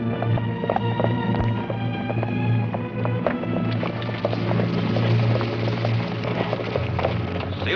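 Horses' hooves clip-clop steadily on the ground as a group of riders arrives, a loud, close, continuous patter of many hoofbeats with no talking.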